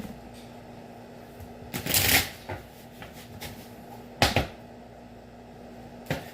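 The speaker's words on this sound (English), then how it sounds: "And one more shuffle, and that'll be good today." A deck of tarot cards is shuffled in a quiet room, with two or three distinct bursts of riffling and slapping cards, close and crisp, separated by soft handling noise.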